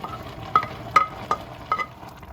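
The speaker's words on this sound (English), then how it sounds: "I'm gonna go ahead and add in now my other veggies. Get these stirred in." Vegetables being stirred into a pan of southern mixed greens give soft scraping strokes, about four distinct ones spaced evenly, over a low sizzle, close and alone with no voices.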